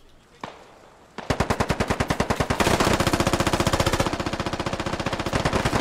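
Rapid automatic gunfire in the SquadOps shooter game, a single shot and then a long, loud, sustained burst of fast evenly spaced rounds filling the scene.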